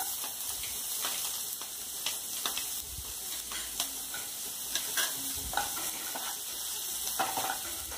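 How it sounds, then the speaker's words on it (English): Onion sautéing in a pan for Indian-style fried rice, a steady close sizzle and frying hiss broken by the scrape and clatter of stirring, with no voices. "Saute well. Now add onion."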